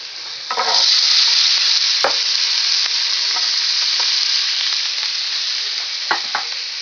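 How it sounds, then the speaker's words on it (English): Onions and turkey bacon sauté in melted butter in a pan for a low-fat Hungarian cabbage and noodles dish, giving a steady, loud sizzle with a few stirring scrapes and clicks throughout. "we're just going to saute this so we can just bring out the flavor of the onions"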